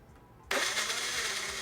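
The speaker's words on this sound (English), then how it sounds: "Cube the papaya and put it into a blender." A blender switches on abruptly after a brief quiet moment and runs at a loud, steady whir, blending cubed papaya with coconut water.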